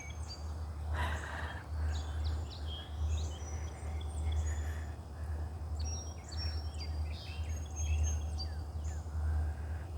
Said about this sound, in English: The birds sound good this morning.